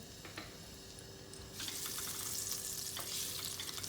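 Quiet background hiss that swells halfway through into a brighter, steady sizzle of butter and oil melting and frying in a pot for flour halva, with faint clinks.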